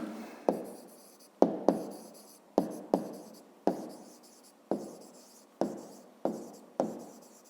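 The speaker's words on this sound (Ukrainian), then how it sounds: "Ну, а зараз давайте запишемо тоді відповідь. Пишемо відповідь." Pen or chalk writing out a math answer by hand for a fifth-grade exercise, heard as about a dozen distinct scratchy strokes with sharp onsets, each fading quickly, close and alone with no voice.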